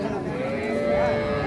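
A cow moos in one long, steady, tonal call at a busy cattle market where cows with calves are being sold, the lowing loud and close over a constant murmur of crowd noise.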